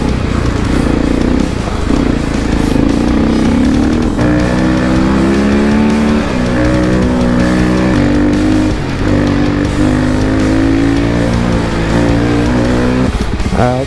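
Dirt bikes converted to timbersleds ride on a snowy Colorado trail, a loud continuous engine drone with rising and falling revs close by, no talk.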